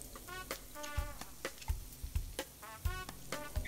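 Italian carnival fritter balls sizzle in melted butter in a pan, a soft crackling fry broken by repeated clacks and scrapes of a utensil stirring them.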